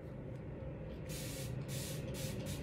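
A spray bottle mists water onto a makeup spoolie, several short broadband hissing bursts close up over a steady low background hum, with no talking.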